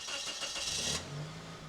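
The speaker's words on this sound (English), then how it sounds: "Start up the car." A 1950s-era car engine cranks with a short whirring starter burst, then catches into a low, steady running hum, heard close and fairly loud.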